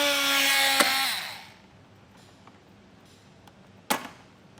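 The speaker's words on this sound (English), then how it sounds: "We're going to cut that with a multi-tool and take this center piece out." A multi-tool cuts through black plastic on a base plate kit setup, making a loud, close buzzing whine that fades out after about a second and a half, followed by a few faint taps and clicks.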